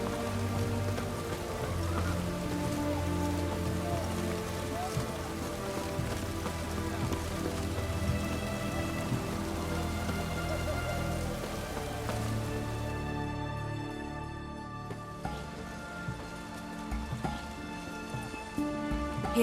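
Steady rain falls in a continuous, dense patter with a faint musical tone running beneath it; the downpour stays even and fairly loud throughout, with no voices.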